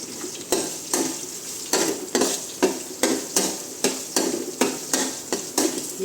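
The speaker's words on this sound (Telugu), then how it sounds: "ఈ వేగుతున్న ఆయిల్లో ఫ్రై చేసుకోవాలి" Garlic frying in hot oil, a steady loud sizzle with repeated stirring scrapes at a regular rhythm, close up, with no talk.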